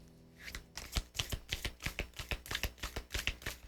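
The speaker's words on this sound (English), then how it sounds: "I'll do 7 shuffles here." Tarot cards are shuffled by hand in a quick run of crisp, close flicks and taps that repeat at an even rhythm, with no talking.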